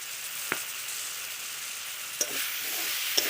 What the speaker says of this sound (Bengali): এই যে চিংড়ি মাছটা এর সঙ্গে একটু ভেজে নেব